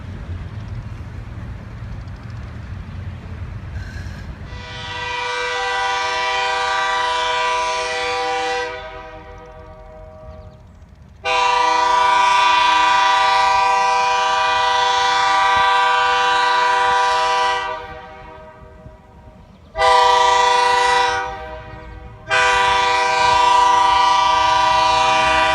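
Great Lakes Central 398 locomotive running near the Traverse City depot, its horn blowing several long loud blasts separated by short pauses over a low engine rumble.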